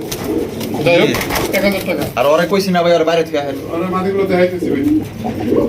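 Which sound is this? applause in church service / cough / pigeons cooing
pigeons cooing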